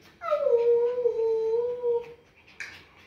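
A dog lets out one long, close, drawn-out whimpering whine that slides downward and fades, followed by a short, higher yip near the end.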